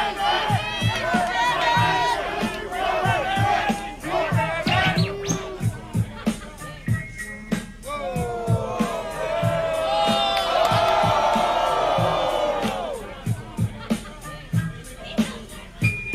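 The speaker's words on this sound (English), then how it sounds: "The crowd began to taunt him." A loud crowd at a rap battle jeers and taunts a rapper over thumping music, voices rising and falling in a noisy, rowdy swell that peaks midway before settling.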